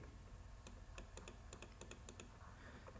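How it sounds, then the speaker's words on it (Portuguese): Keys clack on a computer keyboard as a formula is entered into an Excel sheet, a short run of crisp, evenly spaced strokes over a steady low hum, no voices. "vou digitar aqui agora, igual E."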